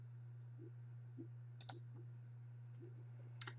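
Computer mouse clicks, a few faint, quick clicks spaced apart over a steady low electrical hum, close but quiet.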